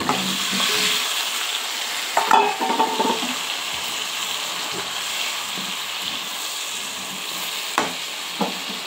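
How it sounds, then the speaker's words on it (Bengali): Chopped potatoes frying in a pan with chili powder as they are stirred, a steady close sizzle and hiss with scraping stir sounds and a few brief knocks, no talking. "দিয়ে দিচ্ছি কেটে রাখা আলু।"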